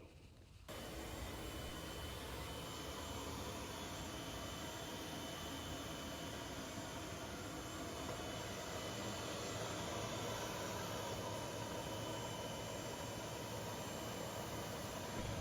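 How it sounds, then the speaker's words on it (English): A CNC router with a 1/8 inch bit cuts a tight radius into an HDF door panel, giving a loud, constant broadband roar with a thin high whine, steady and unbroken throughout, with no voices. "Now the CNC is using that 1/8" bit to come in and tighten up this radius"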